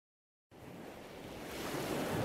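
Ocean surf rises out of silence as a broad, steady wash of waves that swells gradually louder and holds, with no voices.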